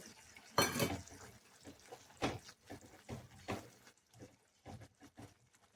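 Fish pieces go into a simmering masala in a pan, giving soft clatters of the pan and light splashing and bubbling, quiet and close.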